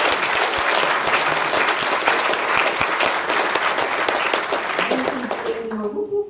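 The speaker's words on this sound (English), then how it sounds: "we have to give him a massive round of applause because he's being filmed" A crowd at a graduation ceremony gives a loud, sustained round of applause, dense steady clapping that fades out at the end as a voice begins speaking.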